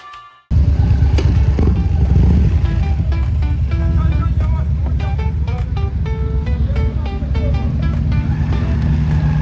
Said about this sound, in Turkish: Önce arabaların binmesi gerekiyormuş